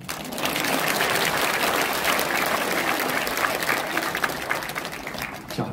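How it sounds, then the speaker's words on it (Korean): Sustained audience applause fills a lecture hall during a talk on the Korean War, dense steady clapping at full volume from start to finish with no voices above it. "우리도 한번 박수치고 자."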